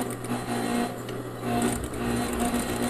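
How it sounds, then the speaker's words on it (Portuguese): A sewing machine runs steadily, stitching bias binding onto a fabric Christmas trivet, its motor hum and needle clatter continuous and close, speeding up and slowing slightly in a few bursts. "E aí, a gente vai começar a costurar."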